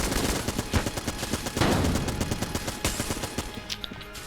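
Rapid, continuous gunfire from the roguelike shooter Enter the Gungeon during a boss fight, dense overlapping shots crackling steadily throughout with no voice over it.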